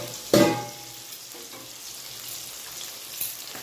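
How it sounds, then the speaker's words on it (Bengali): Cumin and coriander powder hitting hot oil in a pan, a sharp burst of sizzling at the start that settles into a soft, steady frying hiss with faint stirring. "এতে জিরের গুঁড়ো, ধনের গুঁড়ো দিয়ে দিলাম, দিয়ে হালকা ফ্রাই করলাম, কষে নিলাম।"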